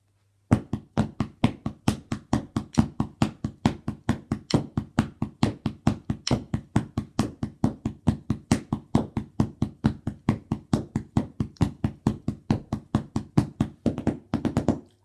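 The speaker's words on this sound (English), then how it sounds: "basically your basic rock beat, but instead of playing a snare on the fourth beat, it's replaced by a bass" A basic rock drum beat with the bass drum taking the place of the snare on the fourth beat, a steady, close, evenly spaced stream of punchy hits and cymbal strokes running for about fifteen seconds with no voices.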